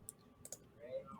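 A computer mouse clicks a few times during AutoCAD drafting work, sharp quiet taps near the start and middle, with soft background noise.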